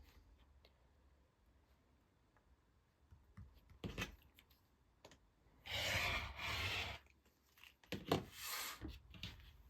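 Scissors or a rotary cutter slicing through quilt fabric along a drawn diagonal line between two sewn seams, heard as a few short crisp cutting bursts close by, with quiet pauses between them.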